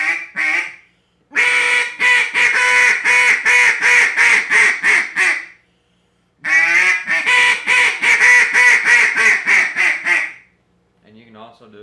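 Duck call blown in two long runs of rapid, rhythmic quacks with shifting pitch, each burst loud and close, separated by short pauses, ending with a softer, quieter feed-call chatter.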